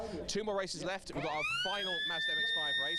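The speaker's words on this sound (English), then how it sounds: "Apologies for the siren you can hear in the background." A siren wails upward and holds a steady tone in the background while someone speaks over it nearby, during a livestream of a race at Donington Park.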